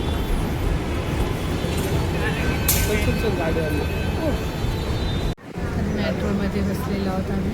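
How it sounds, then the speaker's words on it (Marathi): Passengers ride a moving metro train in Pune, with a steady rumbling cabin drone and rail noise filling the whole stretch, a brief dropout near the end, and background chatter from people aboard. "मेट्रोमध्ये बसलेलो आहोत आम्ही।"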